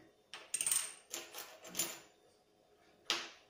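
A few light metallic clinks and taps, like a Soviet 2-ruble coin dropping and rattling on a hard surface, sound close by in a quiet room.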